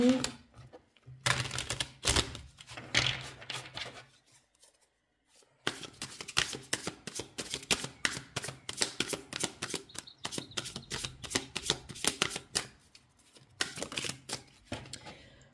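Tarot cards are shuffled and riffled close by, giving bursts of rapid, crisp flicking clicks with a short silent gap partway through. No clear talk is heard over the card noise.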